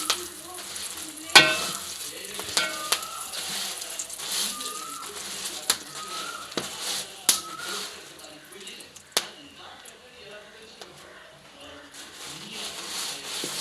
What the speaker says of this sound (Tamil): அந்த எண்ணெய்க்குள்ள செத்தல் மிளகாய் கொஞ்சம் போட்டு அப்படியே எண்ணெயோட சேர்த்து லைட்டாக வறுக்கணும்.